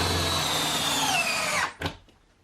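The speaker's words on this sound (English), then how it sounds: "I'm just putting 2 bolts, anchor bolts at every other spot" A power drill runs at high speed driving anchor bolts into a wall ledger, its whine dropping slightly as it bites, then stopping abruptly with a short clunk and fading rattle.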